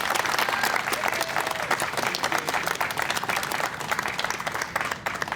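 A crowd applauds at a Salt Lake City School District event, thick, loud clapping from many hands that stays level and continuous throughout.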